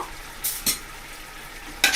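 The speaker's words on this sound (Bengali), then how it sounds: "আমি ঢাকনাটা একবার তুলে নেড়ে দেব" Three short scraping strokes of a utensil stirring chickpeas in a pan, spaced apart over a faint background sizzle.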